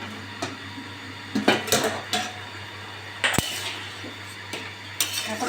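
Metal pot of jackfruit-and-potato curry with fish being covered with its lid in a home kitchen: several sharp metallic clinks and clatters, spaced irregularly over a low steady background, with no talking.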